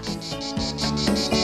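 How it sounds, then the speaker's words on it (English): A steady, loud insect buzz with a pulsing, rhythmic shimmer, continuous throughout and close by, with no talking. "The insect that makes that noise is the cicada."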